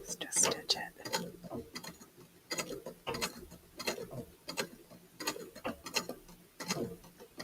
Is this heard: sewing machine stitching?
yes